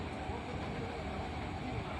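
Steady rumble and hiss of a moving train heard from inside a carriage on a trip in Hooghly district, West Bengal, a continuous even roar with no clear talk over it.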